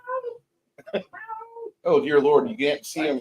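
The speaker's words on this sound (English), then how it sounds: "Is that your cat? That's a cat." A black cat meows several times near the microphone, with short cries early on and then longer, louder meows, while a person talks in between and over them.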